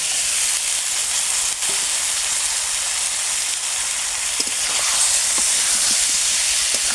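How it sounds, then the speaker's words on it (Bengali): Pre-boiled, salted potatoes dropped into a hot pan for Bengali aloo dum sizzle with a constant loud hiss, joined by a few faint spits and crackles, and no voices. "এবারে দিয়ে দেবো আগে থেকে সিদ্ধ করে রাখা আলু"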